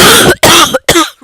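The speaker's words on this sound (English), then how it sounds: "Really sorry for coughing in your ear." Three loud, harsh coughs in quick succession, very close to the microphone.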